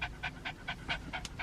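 Dog panting in a car, quick rhythmic breaths, about six or seven short huffs, close and soft with no talking over them.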